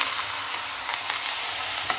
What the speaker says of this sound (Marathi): हलकेसे असं हे कारल्याच्या फोडी आपल्याला भाजून घ्यायचं